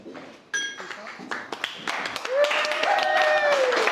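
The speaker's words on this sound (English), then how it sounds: "let's keep the round of applause going once again for Bertram, Ijeoma's brother" Wedding guests begin applauding after a toast to the bride and groom, scattered claps that build into fuller applause, with a ringing tone and cheering voices rising over the clapping.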